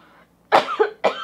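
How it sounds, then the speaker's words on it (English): Two separate coughs from one person close by, a harsh burst with a short rasping tail and then a second brief cough, heard alone in a quiet room. "I better go because I'm going to have a cough attack."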